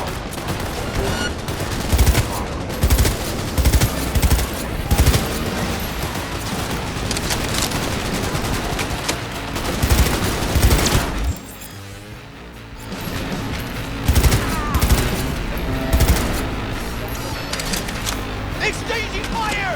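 Dense gunfire exchange in the video game Cyberpunk 2077, loud repeated shots and bursts with impacts, a brief lull near the middle before firing resumes, a voice occasionally calling out over it.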